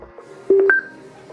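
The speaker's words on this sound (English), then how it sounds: "another chime will sound" A short electronic Bluetooth pairing chime from a TCL Alto 9+ soundbar, two quick rising tones, clear and close, then fading into quiet.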